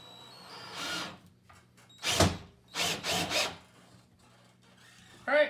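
A power drill drives screws into a door latch plate in short whirring bursts separated by quiet pauses, with one long burst and a quick pair of pulses in the middle.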